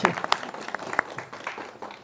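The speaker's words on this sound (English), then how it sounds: "So I really want to congratulate and give a big round of applause to Joanne" A crowd claps in a scattered, uneven patter for a couple of seconds, fairly close, with voices mixed in.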